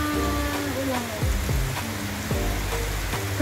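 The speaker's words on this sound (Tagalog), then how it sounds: "Umulan na guys, yan, hindi na sila tuloy makauwi." Steady rain hisses throughout on an evening in the Philippines, a broad wash of falling water that stays under several voices chatting and laughing nearby.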